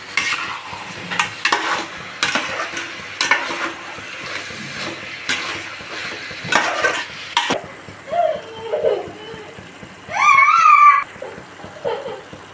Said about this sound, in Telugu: సో ఇలా మొత్తం కలిపేంత వరకు బాగా కలుపుకోవాలి